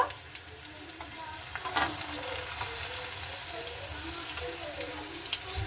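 Stuffed papad fritters fry in mustard oil with a soft, steady close sizzle, broken by a few light taps and scrapes as they are turned. The frying sounds stay quiet throughout.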